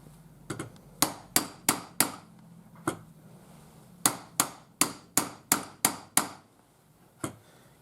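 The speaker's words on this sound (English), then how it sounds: "Now as I'm using a hammer, I'm pulling down with this hand too," A heavy hammer drives a rod for bullet chamber casting in a run of about a dozen sharp, ringing metallic strikes. The blows fall in quick clusters separated by short pauses, clear and close over a quiet background.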